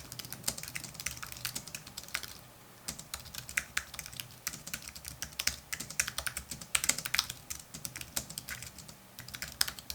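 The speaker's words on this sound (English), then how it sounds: "I've included a recording of the Apple Magic keyboard so that you can see and hear the difference in terms of that clickiness" Fingers type rapidly on an Apple Magic Keyboard, a dense run of soft, close key taps with short pauses and no talking.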